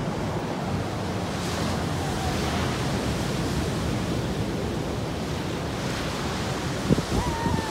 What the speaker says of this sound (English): We're on the beach